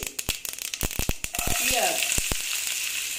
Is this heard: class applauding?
no